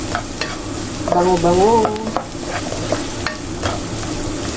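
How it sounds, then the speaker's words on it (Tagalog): Garlic and onion sauté in a pan for ginisang ampalaya, a constant sizzle with repeated spatula scrapes and stirring, while a voice briefly speaks near the start. "Isa-gisa lang natin ang ating bawang at sibuyas."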